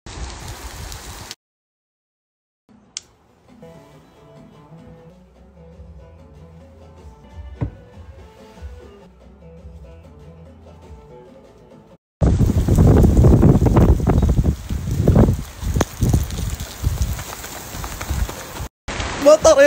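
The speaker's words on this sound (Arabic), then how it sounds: "مطر يا جماعة الخير، مطر." Heavy rain starts suddenly after a long, quieter stretch, then hammers down loudly and close on surfaces in a dense, continuous roar with gusty swells until the end.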